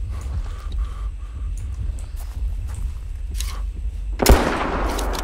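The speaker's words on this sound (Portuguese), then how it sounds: "Atirei nesse T-Rex pra dar emoção" A gun fired at a T-Rex in the hunting video game Prehistoric Hunt, heard as a loud sharp blast late on after quieter ambient stretches, followed by a lingering rumbling tail.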